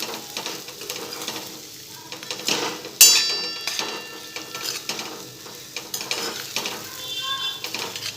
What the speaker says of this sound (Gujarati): હવે બધું સરસ મિક્સ કરી લઈશું।